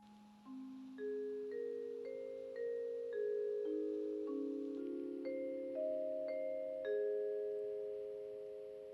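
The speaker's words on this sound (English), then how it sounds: "it's a musical instrument that sounds like" A vibraphone plays a gentle run of struck notes that ring on and overlap, soft and clean in a quiet room, with each bar's tone slowly fading.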